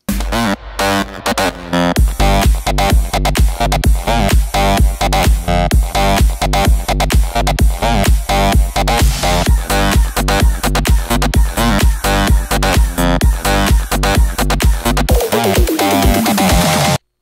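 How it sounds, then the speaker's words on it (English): A bright, buzzy Sylenth synth lead plays a busy melodic line over a pounding four-on-the-floor beat, loud and continuous, ending with a falling pitch sweep. "create the lead sound from the drop"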